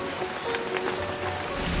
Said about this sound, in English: as the rain began to fall, splashing all around